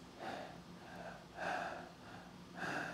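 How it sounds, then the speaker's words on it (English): A person's deep breaths out, several slow exhalations in a row, close and fairly soft, the breathy pulses rising and falling in an uneven rhythm. "I'm like breathing out."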